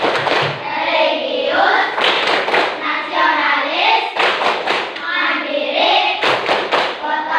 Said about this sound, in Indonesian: yuk kita bareng-bareng tepuk PPK